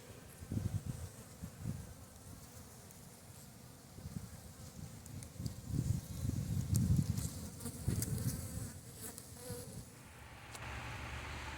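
A dense, steady buzz of many honey bees close by at a small nucleus hive in midwinter, swelling and fading gently with a soft rustle underneath.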